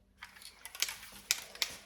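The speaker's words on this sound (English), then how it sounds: "I bought these little things for spray paint, and you just put the lid on there and then it sprays" A trigger sprayer attachment fitted onto a spray paint can is clicked a few times, giving sharp, close plastic clicks over faint mechanical rattling, with no talk.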